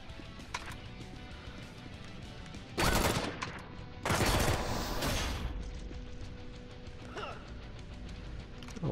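Gunfire in the video game Drawn to Death, with two loud rapid bursts of automatic shots standing out over a busy, lower game background.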